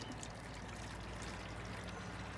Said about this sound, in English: I'm going to put some water in it.